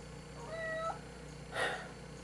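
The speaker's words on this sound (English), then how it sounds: "I can now see that there is a cat in my shot." A domestic cat gives one short rising meow indoors, followed by a brief breathy chirp, heard close and alone over a quiet room hum.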